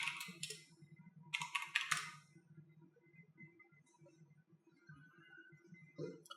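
A Docker Compose command is tapped out on a computer keyboard in two quick bursts of close, faint keystrokes, separated by near silence with a low background hum.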